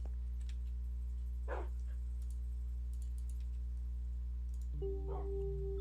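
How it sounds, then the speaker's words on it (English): Dogs in a Minecraft game give two short, faint yips several seconds apart over a steady low in-game hum. "I just realized how many dogs are in Eric's house."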